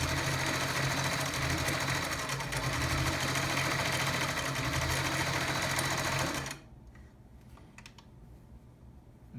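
A vintage Singer Stylist 513 sewing machine runs steadily, its rapid mechanical whir loud and close for about six seconds before stopping abruptly, leaving quiet room tone.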